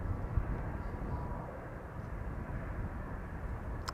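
Airliners departing Amsterdam Schiphol Airport during parallel runway operations, heard as a steady broadband jet roar at a moderate distance, fairly loud and continuous with no voices.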